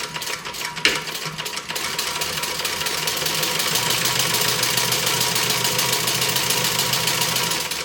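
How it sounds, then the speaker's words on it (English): A sewing machine running steadily as it top stitches a bag, a continuous mechanical whirr with a fast rhythmic chatter, close and fairly loud, starting after a brief pause and a click, with no voices. "I'm going to top stitch this, and I am going to back stitch."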